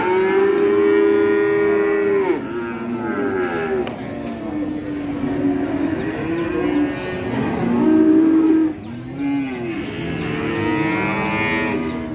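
Cattle at a cow market in Kere, young bulls being sold, lowing repeatedly in long, loud, drawn-out moos that overlap one another, with faint talk in the background.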